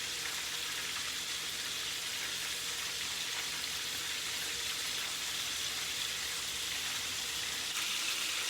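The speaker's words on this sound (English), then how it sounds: "Let it fry again, another 8 minutes on the other side" Chicken pieces deep-frying KFC style in hot oil after being flipped, a steady dense sizzle and crackle that holds evenly throughout with no talk.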